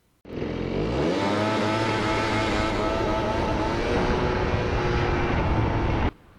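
A scooter engine under test after a stalling repair revs up sharply from idle, then holds a loud, steady high-rpm drone with a slight stutter for several seconds before cutting off abruptly.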